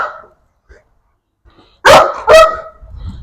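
A dog, a new puppy, gives two sharp, loud barks close by after a mostly quiet stretch, followed by faint shuffling.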